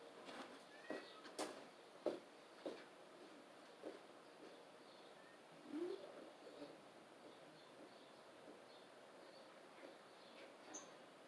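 A cat yowls and cries in short, scattered bursts outdoors, fairly faint, with a few bird calls in the background.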